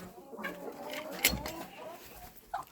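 Broody hens sitting on goose and duck eggs cluck in a farmyard, low soft clucks close by with a sharper bird sound midway and another near the end.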